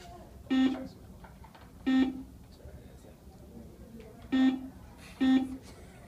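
Four short quiz game buzzer sounds in an uneven sequence, each a harsh, bright tone lasting a fraction of a second, with quiet room noise between.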